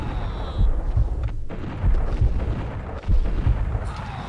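Gunshots in the Max Payne video game: several heavy, booming shots land at irregular intervals, fairly loud and close over a rumbling game soundscape, with no talking.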